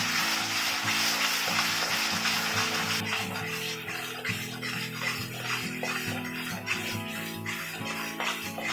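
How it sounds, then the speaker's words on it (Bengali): Ground cumin, coriander and chilli powder fry in hot oil for a Bengali katla fish kalia, a steady close sizzle with light stirring scrapes under a constant hiss. "এইসব গুঁড়ো মশলা দিয়ে এক মিনিট মতন কষিয়ে নেবো"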